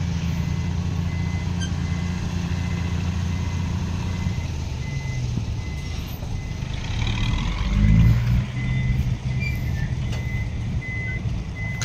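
A ten-wheeler dump truck backs up with a steady series of electronic reversing beeps over a continuous low diesel engine rumble that swells briefly as it moves.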